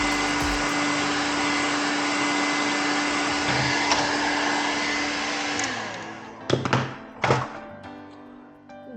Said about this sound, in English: But first, I'll be heating up the front of that tank guard.